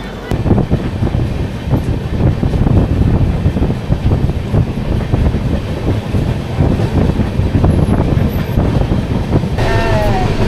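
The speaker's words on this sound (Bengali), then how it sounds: "বন্ধুরা আমাদের যে ট্রেনটা সেটা এখন জোসিটি ঢুকছে" A passenger train travels from Kolkata toward Deoghar and approaches a station, filling the clip with a loud, continuous rumble and rattle of wheels and carriages, mixed with gusty wind noise throughout.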